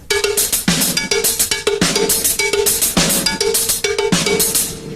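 Cowbell and hi-hat lock into a repeating drum pattern, with clanking bell strokes and crisp hat ticks alternating in a tight, steady rhythm, loud and up close.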